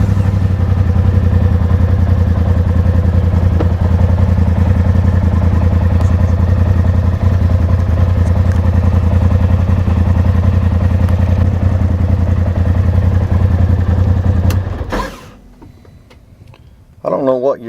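A 2020 Polaris RZR XP Turbo side-by-side engine idles with a loud, steady low rumble and ticking clatter for most of the stretch, then shuts off abruptly, leaving near quiet and a short voice at the end.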